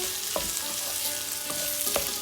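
A spoon stirs boiled potato filling in a hot pan for curry puffs, producing a constant sizzle with a few distinct scraping knocks, close and fairly loud.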